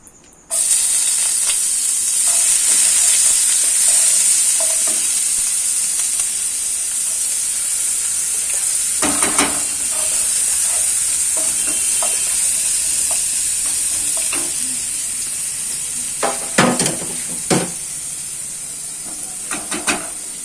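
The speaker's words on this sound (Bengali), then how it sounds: "এবার দিয়ে দেবো এর মধ্যে দেখো 1 কাপ মতো পেঁয়াজ কুচি।" About a cup of chopped onion fries in hot oil in a pan, a steady loud sizzle and hiss with a few scraping stirs in the middle and near the end.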